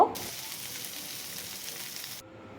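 Fish fries with onions in a pan, a brief even hiss of sizzling oil close up that cuts out sharply near the end, with no talk.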